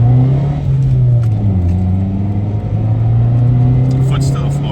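Honda Civic engine held at steady high revs under full throttle, a loud continuous droning hum heard from inside the car with a slight dip in pitch midway.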